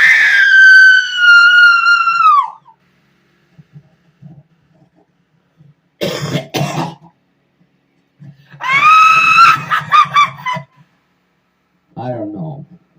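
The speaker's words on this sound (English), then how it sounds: "if you want to hear the loudest scream" A very loud, long scream rings out at the start and falls off abruptly, followed by quiet pauses and bursts of shouting and loud vocalizing.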